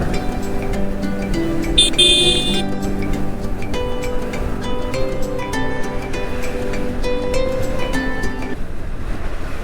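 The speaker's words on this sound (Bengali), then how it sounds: "কিন্তু বাতাসের বেগটা অনেক বেশি।" Strong storm wind roars steadily across the Padma riverbank where fishing trawlers and boats are tied up, a dense, continuous rushing buffeting the microphone for the whole stretch, with no voices.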